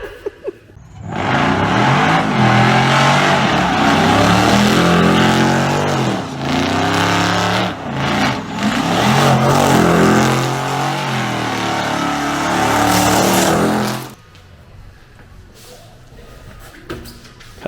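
Chevrolet Chevette with an LS engine swap and a loud pipe revs hard, a loud sustained engine roar climbing and dipping for about thirteen seconds before cutting off abruptly to a quieter idle.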